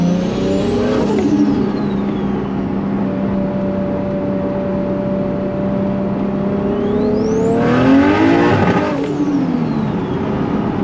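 A 2JZ-powered car with a six-speed gearbox pulls hard through third gear, its loud close engine note climbing steadily in pitch, then a sharp shift and a fresh rising surge toward the end.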